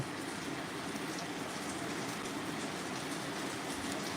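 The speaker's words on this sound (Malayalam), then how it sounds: "മഴ ശക്തമാകാൻ തുടങ്ങിയിട്ടുണ്ട്" Steady, dense rainfall pours down without a break, a continuous hiss of heavy rain with no voices.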